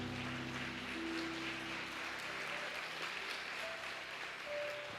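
Congregation clapping in a church service, a dense, steady wash of applause filling the room at moderate level, with faint sustained organ or keyboard tones beneath.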